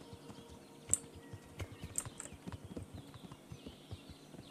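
Faint hoofbeats of a horse ridden in the video game Kingdom Come: Deliverance, a soft irregular clip-clop with a few bird chirps above it.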